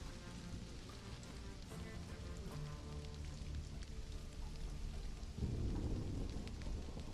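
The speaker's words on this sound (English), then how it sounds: "It's the rain." Steady rainfall hisses with low thunder rumbling beneath it in the survival game Stranded: Alien Dawn. The storm stays moderately loud throughout, and a heavier surge of rain or rumble swells near the end.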